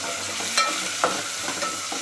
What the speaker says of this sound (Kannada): ಇವಾಗ ಇದನ್ನ ಸ್ವಲ್ಪ ಫ್ರೈ ಮಾಡ್ಕೊತೀನಿ